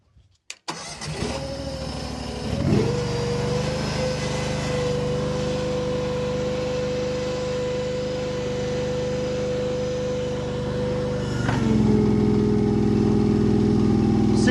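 A vehicle engine starts with a couple of clunks, then settles into a steady drone as it strains to drive away from a scale pulling a chain, rising in pitch and volume near the end.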